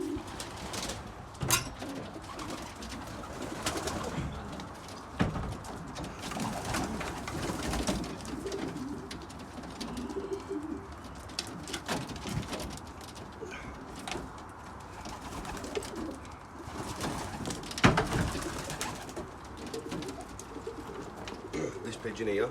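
Racing pigeons coo in a loft, soft throaty calls repeating at an uneven pace close by, while someone talks over them for most of the stretch.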